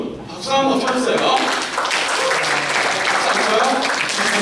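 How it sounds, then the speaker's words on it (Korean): A youth church congregation at a Sunday worship service applauds, a steady wash of clapping that swells after a brief lull and holds evenly, with some voices mixed in. "박수 한번 쳐주세요."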